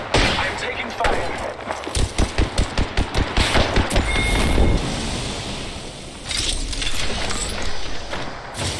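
Rapid bursts of automatic gunfire crackle in an Apex Legends match, a fast run of sharp shots followed by a louder, rumbling stretch of combat noise, with game voice lines over it.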